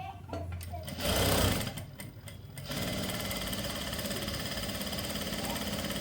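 Sewing machine stitching a blouse, running in short bursts at first and then humming steadily with a fast, even whir close to the mic, while someone talks over it.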